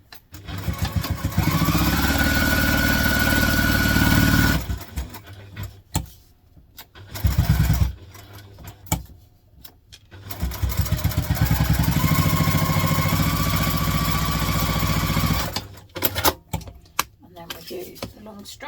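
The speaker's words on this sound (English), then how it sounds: "I'm going to take those to the machine and we are going to top stitch them" A sewing machine top stitches fabric strap connectors for a hobo bag, its motor whirring in long bursts that climb in pitch as it speeds up, separated by short pauses and brief stops.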